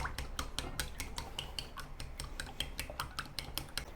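Salted egg whites being mixed with regular eggs in a mixing bowl, a quiet, quick, regular run of light clicking strokes repeating steadily throughout.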